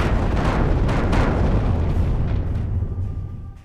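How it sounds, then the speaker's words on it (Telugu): A US forces bombing raid on an ISIS leader's hideout produces a loud, continuous roar of explosions and rumbling blasts that fades slightly toward the end, with no voices. "అమెరికా దళాలు వెనువెంటనే బాంబుల వర్షం కురిపించాయి"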